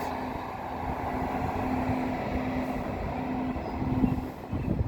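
Two Class 150 diesel multiple units pass Huncoat station early in the morning with a steady, continuous rumble of engines and wheels, and a sustained horn tone runs through much of the passage.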